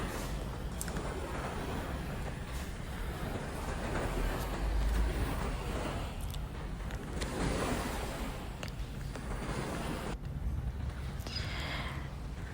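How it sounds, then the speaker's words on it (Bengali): Ocean waves wash continuously onto a beach, a broad, steady roar of surf that swells and eases in slow surges at moderate distance. "আমি চেয়েছি যে আপনারা ঢেউয়ের যে একটা শব্দ এটা শুনতে পান"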